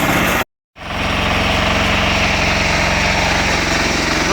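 A 10HP diesel engine on a Roper/Sears garden tractor runs outdoors as it warms up, a loud, close, steady chugging drone that cuts out for a split second near the start and then resumes evenly.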